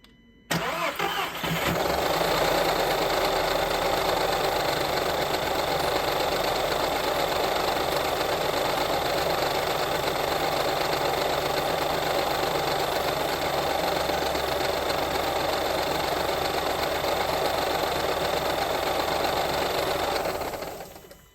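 A 1.4 TSI car engine starts and runs steadily at close range, with a rough, knocking quality under the constant mechanical hum; no talking.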